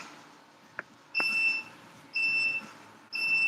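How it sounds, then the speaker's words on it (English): A workout timer beeps during a home back and biceps strength session: three sustained electronic beeps about a second apart, moderately loud over quiet room noise, with a single faint click before the first. "Don't worry about the timer."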